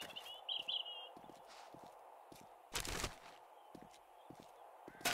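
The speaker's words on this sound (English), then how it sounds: "I do hear footsteps though." Footsteps in the zombie survival game 7 Days to Die, a string of soft, quick steps moving along at a walking pace, with a louder burst partway through and faint bird chirps in the background.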